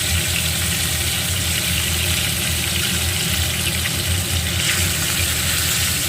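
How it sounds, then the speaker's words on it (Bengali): Mrigal fish deep-frying in already hot oil, a loud, steady, dense sizzle and crackle that runs without a break from start to finish, close up, no voices. "এইভাবে কিন্তু আমি মাছগুলো কিন্তু ফ্রাই করে নেব এবং অবশ্যই ডিপ ফ্রাই করব"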